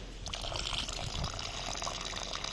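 Water is poured into a mortar mix on a building job, a close, soft splashing trickle that runs steadily for a couple of seconds with no talking.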